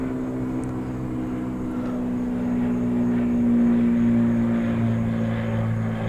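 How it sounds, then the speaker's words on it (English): Airplane flying overhead in the sky, a steady broad engine drone with a low propeller-like hum that swells slightly in the middle and stays constant throughout, with no talking. "There's an airplane up in the sky!"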